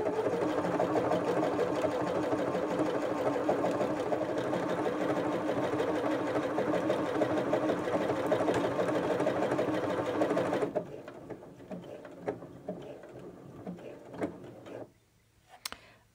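Sewing machine stitching along tape, a fast steady mechanical whir-and-tick running continuously for about ten seconds, then stopping and leaving quieter handling clicks and small mechanism noises.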